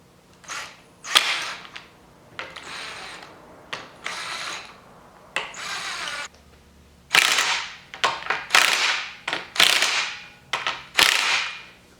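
A wrench tightening the upper kingpin cap bolts on a Dana 60 front axle in a diagonal pattern, heard as a series of close, sharp metallic clicks and snaps in irregular bursts with brief quiet gaps between.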